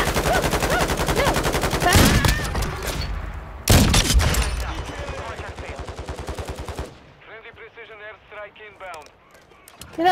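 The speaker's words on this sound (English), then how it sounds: "I'm only kind of seeing him because he's shooting at me" Enemy gunfire in a shooter video game aimed at the player, rapid automatic bursts with several loud close impacts, then quieter scattered shots near the end while a voice talks over much of it.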